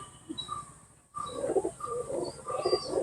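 Loft pigeons give soft, repeated coos at a low level, with a few faint higher chirps over a quiet background.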